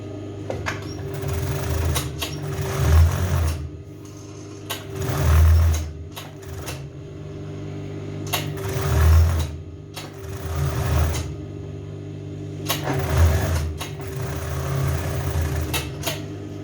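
A sewing machine topstitches a skirt waistband in repeated bursts of steady stitching, pausing briefly between runs, with a low motor hum throughout and no talking.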